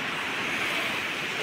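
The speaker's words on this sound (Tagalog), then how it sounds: "Grabe kalaki ng alon guys. Stranded kami dito ngayon sa baybayin." A continuous, loud roar of surf with heavy wash and rumble, close by and unbroken, like big waves crashing on a beach.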